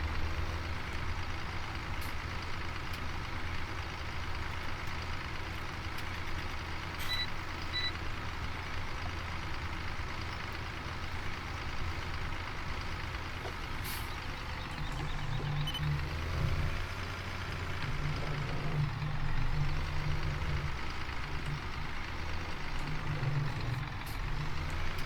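A tractor in the Farming Simulator 15 game backs up during silage and field work, its engine rumbling steadily under repeated reversing beeps with no voices.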